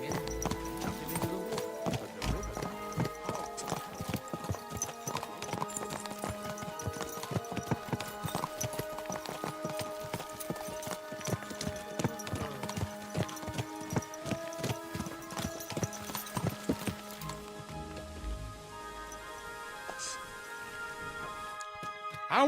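Horse hooves clip-clop in the video game Kingdom Come Deliverance 2, a steady trotting rhythm of hoof strikes at moderate distance over a faint ambient backdrop, tapering off toward the end.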